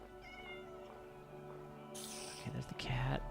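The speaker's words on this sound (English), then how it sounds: "there's the cat" A cat meows in Minecraft, a few short synthetic mews appearing near the end over quiet background tones.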